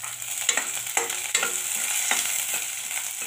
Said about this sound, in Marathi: शिमला मिरची कट करून टाकली बारीक, याला मी चांगली परतून घेते